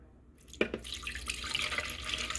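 Warm water with dissolved yeast is poured into a bowl for tomato basil bread dough, a soft splash followed by a steady, quiet trickle of liquid close by, with no voices.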